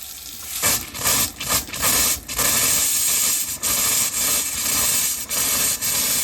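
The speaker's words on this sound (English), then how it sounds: "So that's the cold water." Cold water runs from an RV sink faucet while the system drains, giving a steady loud hiss and spray with brief sputters and gaps as air pushes through the line.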